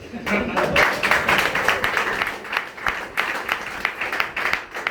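An audience applauds for Nadeem sir at a Sunday meeting in an office, a steady, dense patter of many hands clapping close by for about five seconds, with voices mixed in beneath it.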